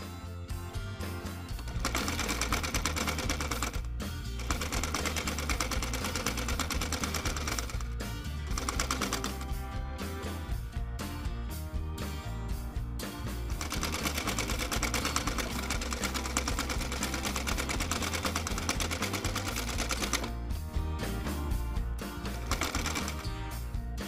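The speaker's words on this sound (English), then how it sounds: "With the pin here, stitch right in the center here." A sewing machine runs in long steady stitching bursts, stitching the center of a twisted turban headband, its rapid needle clatter loud and continuous with brief pauses between runs.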